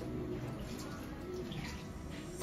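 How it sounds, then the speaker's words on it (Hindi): Water is poured slowly and carefully, giving a steady, close trickle and splash that runs unbroken for a couple of seconds with no voices over it. "देखो पानी कैसे डालना, बहुत ध्यान से पानी डालना पड़ेगा।"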